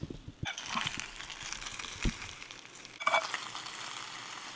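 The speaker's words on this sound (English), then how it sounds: "We're gonna do one final baste, then we're gonna let it cool" Chicken drummies sizzle steadily in a hot pan while being basted, a continuous crackling fry broken by wet spoon clinks and splashes, heard close and without talk.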